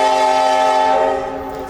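A southbound CSX Tropicana juice train near the Little Manatee River sounds its horn, a loud sustained chord that holds steady and then begins to fade as the train passes.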